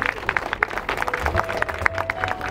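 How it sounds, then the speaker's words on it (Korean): An audience claps at a ceremony appointing a singer as honorary ambassador for the Boseong World Tea Expo, scattered applause and crowd noise at moderate distance with a faint sustained tone. "큰 박수 부탁드리겠습니다."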